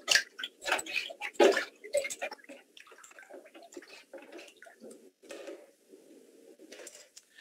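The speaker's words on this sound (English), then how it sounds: "You want to give your water a nice stir, get everything back in suspension." Water mixed with paper pulp for papermaking is stirred by hand, giving bursts of splashing and sloshing at the start that settle into a quieter, continuous swirl and trickle.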